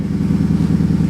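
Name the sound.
roommate's truck engine running nearby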